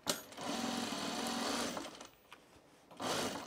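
A sewing machine runs steadily while stitching an oven mitt for about a second and a half, then stops, with only faint handling noise, before a second burst of stitching starts at the end.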